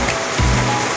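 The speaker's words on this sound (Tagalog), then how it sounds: "Ayan po yung ulan, grabe." Heavy, all-day rain in a flooding area, a loud dense roar of water close by, steady and unbroken with no talking.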